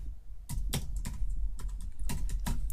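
Quick bursts of key presses on a computer keyboard, irregular clusters of clicks at close range with no voices.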